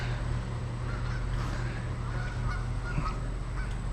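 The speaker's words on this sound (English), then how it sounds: "Got about 20 or so geese that like to live here, and they, I don't know, they're putting up a fuss" A flock of about 20 geese honks repeatedly at a moderate distance over a steady background hum.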